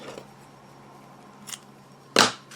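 A single crisp snip of scissors cutting a piece of craft material for a Christmas angel tassel, loud and close after a quiet pause with a faint earlier rustle.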